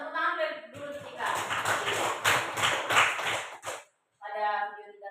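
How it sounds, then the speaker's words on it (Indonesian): A classroom claps for a student named Tika, a short burst of scattered hand claps from a small group, framed by a teacher's voice before and after. "tepuk tangan dulu Tika"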